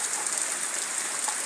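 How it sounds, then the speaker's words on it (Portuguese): Rain falling in Ceará, Brazil, produces a soft, steady hiss and patter of drops on surfaces, fairly faint and even throughout the short stretch, without any talking. "E agora já é 12 horas da tarde. E a chuva voltou de novo."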